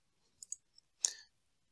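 A mouse click on a software button: a couple of faint, crisp clicks close together, then a slightly longer one, quiet and isolated against silence.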